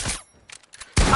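Gunfire in a first-person shooter game, with loud bursts at the start and again at the end and sparse metallic clinks between them.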